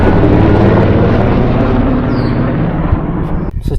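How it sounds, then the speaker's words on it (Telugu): A helicopter passes over snowy Gulmarg in Kashmir, a loud, steady low rotor roar that fills the scene, then drops away abruptly near the end. "హెలికాప్టర్ పోతుంది."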